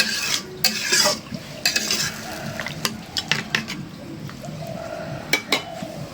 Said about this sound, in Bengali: সরিষার তেল দিয়ে রান্না করলে না কড়ার মধ্যে মশলাটা তাড়াতাড়ি ধরে